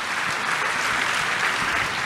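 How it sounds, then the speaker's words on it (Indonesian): A church congregation claps enthusiastically during a resurrection-themed sermon, a dense, steady roar of many hands sustained at full strength throughout without a break. "Tepuk tangan dulu yang paling meriah buat Tuhan."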